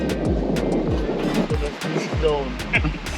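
Water sloshing and slapping against a boat riding up the Black River in Jamaica, with repeated low thumps of the hull over waves and voices talking throughout.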